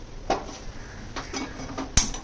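An iron tawa griddle set down on a kitchen stove gives a few light metallic clatters and knocks, with a sharper clang near the end, close by with no talk.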